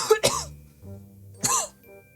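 A single cough or throat clear up front, then a second cough-like burst about a second later, close and fairly loud, during a UCN gaming session.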